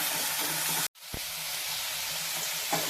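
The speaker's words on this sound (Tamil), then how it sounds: "இப்போ நல்லா வதக்கிட்டுக்கலாம்" Onion, coconut and ridge gourd peel sauté in a hot pan with a steady loud sizzle. The sizzle drops out for a moment, then a sharp clink is heard and the frying hiss resumes.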